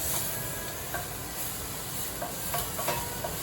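Onions fry in a pan on a stove with a steady, soft sizzle and hiss, joined by a few faint stirring clicks and scrapes, no voices present.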